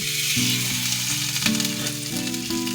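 Fish lowered into hot oil for a crisp fish fry sets off a loud, steady sizzle that runs throughout, with a tonal melody playing underneath.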